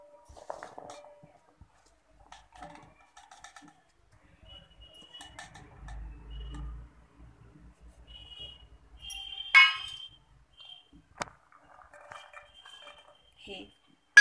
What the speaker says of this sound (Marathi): हे सर्व भाज्या आता आपण मिक्स केलेल्या आहेत